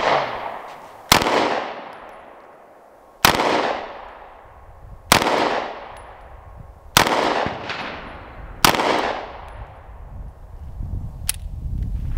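A CANIK Mete MC9 pistol fires five loud, close shots at an outdoor range, spaced roughly two seconds apart. Each sharp report rings out with a long decaying echo, and a faint click follows near the end.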